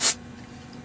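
A spray bottle gives one short, close spritz over an acrylic paint pour, a brief hissing burst that fades into quiet room tone.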